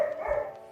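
A dog gives a single short, tonal bark, fairly close and moderately loud, in a quiet indoor space.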